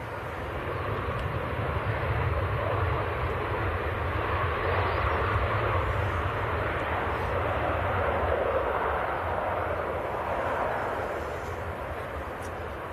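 A Ryanair jet from Copenhagen at Manchester Airport makes a steady, broad engine roar that swells and fades gently over several seconds, at moderate distance.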